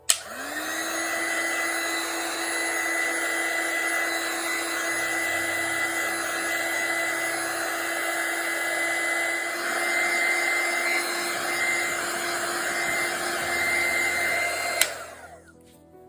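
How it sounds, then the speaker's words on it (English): Heat gun drying ink, blowing with a steady loud whine and airy roar from start-up to a sudden switch-off near the end, nearby and without talk. "Okay, getting the heat gun."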